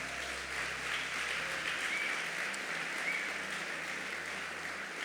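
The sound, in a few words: audience applauding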